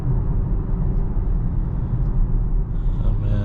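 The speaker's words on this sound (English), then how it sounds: "There's a little bit of tire noise, but we do have the bigger wheels" Steady tire and road roar inside a 2023 Volvo XC40 Recharge electric SUV on bigger wheels at higher speed, a continuous low rumble filling the cabin with no voices.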